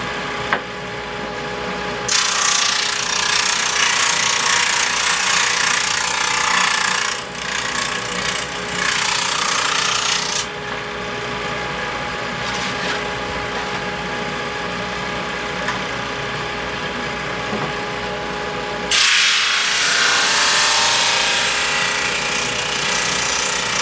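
A wood thicknesser planes a board in loud, harsh mechanical bursts: a long run, a short pause, a second run, then another pass starting near the end. Motor noise hums between the cuts.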